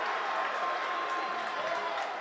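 Home and visiting crowd in the Osage gym at a high school basketball game against St. Ansgar, with St. Ansgar fans cheering loudly over a 10-point lead; a dense, steady wash of cheering and clapping fills the whole stretch.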